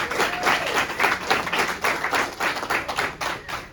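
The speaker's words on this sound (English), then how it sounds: "Please give a round of applause for Mr." Audience applause greets a speaker taking the stage at a high school football gathering, dense steady clapping from a room full of people lasting throughout, fairly close and loud with no talk.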